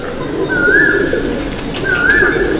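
Domestic white pigeons coo in a pigeon loft, two clear drawn-out coos close by, one after the other, over a steady background hum with no talking.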